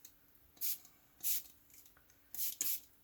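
Water mists from a spray bottle onto stamped fabric in four short, soft bursts, the last two coming close together, quiet and close up with no talking.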